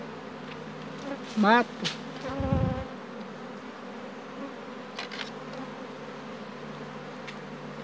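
Honeybees from an Apis hive buzz steadily and close throughout an inspection, with a loud droning hum and a single brief word spoken.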